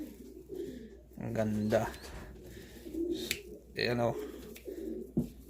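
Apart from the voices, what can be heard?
large pigeons cooing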